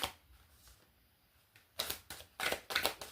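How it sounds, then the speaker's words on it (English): Playing cards being shuffled during a Virgo reading, a few crisp riffling bursts in the second half after a quiet start, close and alone. "Now I'll shuffle until someone jumps out and we'll see who it is."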